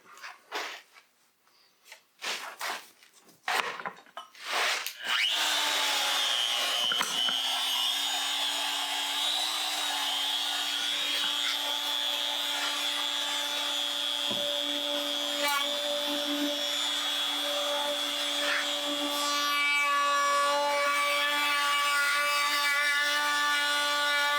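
A power router cuts 45-degree edges around an end grain cutting board with walnut, a steady loud whine running continuously after a few opening knocks and scrapes.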